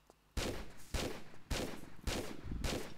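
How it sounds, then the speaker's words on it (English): Lara fires at an enemy in Tomb Raider 3, a series of loud, evenly spaced gunshots, about five booming blasts in quick rhythm with no voices. "Draw your weapons, sprint again, and shoot him."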